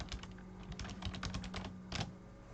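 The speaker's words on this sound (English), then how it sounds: "just go ahead and type in localhost" A computer keyboard being typed on, with a quick run of light, irregular key clicks and a slightly heavier tap near the end, quiet and close.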